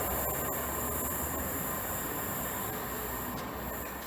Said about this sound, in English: With the 1217 Northern service from Manchester Oxford Road to Liverpool Lime Street.